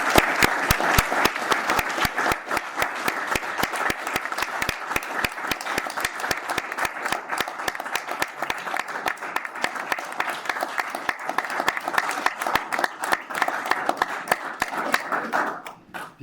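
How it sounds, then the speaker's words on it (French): Sustained applause from the audience at a council meeting honouring a volunteer, steady and full for about sixteen seconds with closely packed hand claps, then trailing off at the very end. "Je vais t'applaudir ce soir."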